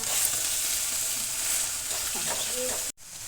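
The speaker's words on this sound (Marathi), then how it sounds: "थोडीशी मोहरी घालायची आहे आणि आपण जिरपूड करून घेतलेलीच आहे ती सुद्धा या तेलामध्ये घालणार आहोत आपण" Mustard seeds and cumin powder sizzle in hot oil for a puffed-rice bhadang snack, a steady near hiss that holds for about three seconds before a sudden brief break, with no clear talk.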